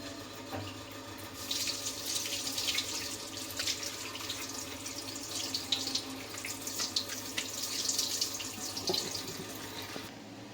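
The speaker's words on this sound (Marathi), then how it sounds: "किस आता आपण स्वच्छ धुवून घेऊया." Steady running water splashing and sloshing in a basin, with light scraping and swishing as grated potato is rinsed, continuous for several seconds.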